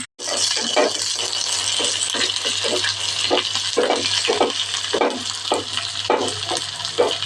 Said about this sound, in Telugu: ఆవాలు, మినపప్పు, కరివేపాకు, దానికి కొంచెం పచ్చి ఆనియన్ వేసి మొత్తం వేగనియాలి.